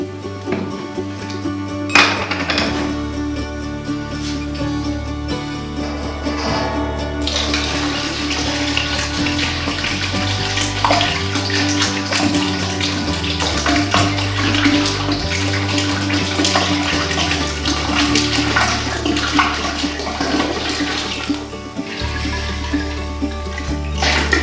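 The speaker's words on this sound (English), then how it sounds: "we're going to go ahead and put in the cider" Cider poured steadily into a 6-gallon homemade mead batch, a continuous loud splashing and gurgling liquid stream close by, sustained throughout without talk.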